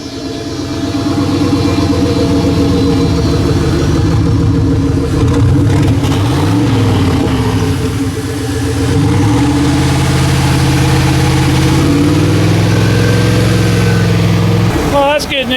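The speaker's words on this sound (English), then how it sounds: "We got the truck running." A turbo LS-powered burnout truck engine runs at a steady, loud, close idle with a couple of slight revs, while people talk over it, ending abruptly.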